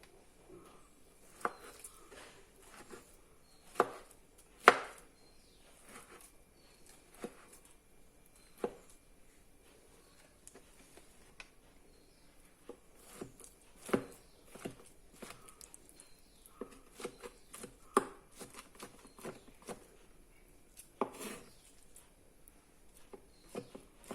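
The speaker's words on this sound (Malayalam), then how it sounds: "ഇതുകൂടെ നമുക്ക് അരിയണം." Knife chopping roasted, peeled eggplant on a board: sparse, irregular taps and thuds, close but fairly quiet, with pauses between bursts and no talk.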